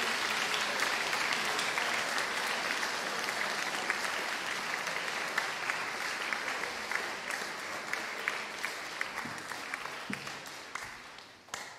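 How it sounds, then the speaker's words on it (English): A crowd at a 2022 school house music competition for boarding houses applauds, with dense, sustained clapping that stays loud for several seconds, then thins into scattered individual claps and fades out near the end. "Can we just give everyone a huge round of applause?"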